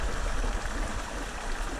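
A small creek waterfall in Utah cutthroat trout water, a soft continuous rushing and burbling of current, faint and steady with no talking.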